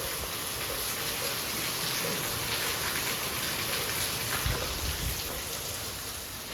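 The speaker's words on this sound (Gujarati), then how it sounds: "તો વરસાદ આવી ગયો કે નહીં," Steady rain falling in Rajkot, a dense, even hiss of drops on surfaces that stays constant and fairly loud throughout, with no voices.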